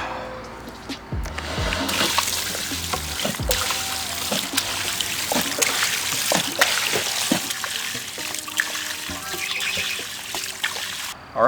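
Water drains steadily from a 59 gallon wine barrel being emptied, a continuous close trickling and splashing that runs throughout, with scattered knocks and a low rumble at the start.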